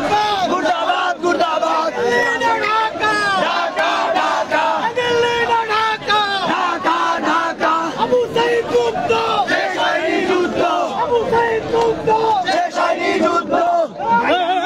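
Protesters at Dhanmondi 32 in Dhaka chant slogans in unison, a loud, rhythmic mass of voices with punchy repeated shouts that carries on without pause.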